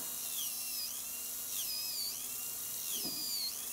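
Gears of a Tamiya mini 4WD Super 2 chassis spin with a thin, high whine that rises and falls in repeated sweeps, with a faint squeak under a steady close mechanical hiss.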